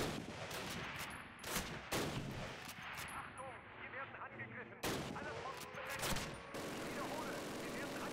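Gunfire in Call of Duty during a prison-break stealth mission, a run of sharp, loud rifle shots and bursts cracking at uneven intervals over a low ambient rumble, with a few clustered volleys.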